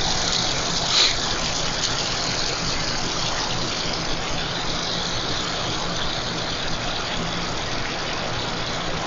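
A kitchen tap runs steadily while frying pans soak, giving a constant hissing flow of water at moderate distance that holds evenly throughout, with a low background hum beneath it and no talking.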